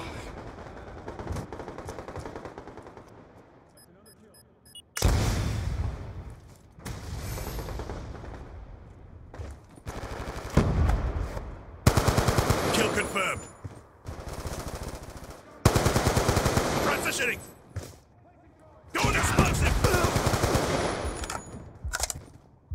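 Bursts of automatic gunfire in the Black Ops 2 video game aimed at a hostile UAV, loud rapid volleys repeating in several long strings separated by brief quieter gaps.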